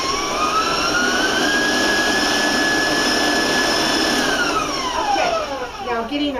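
Electric mixer raised to a higher speed, beating oil into chocolate cake batter, a loud steady whirring drone that rises in pitch, holds, then drops away near the end.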